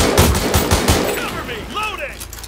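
Rapid gunfire from a World War 3 video game firefight, bursts of close shots crackling through the first second, then scattered shots continuing under a player's voice.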